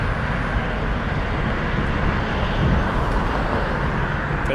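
Airbus A320 jet at Toronto Pearson airport, a steady broadband engine roar that holds evenly loud throughout with no talk.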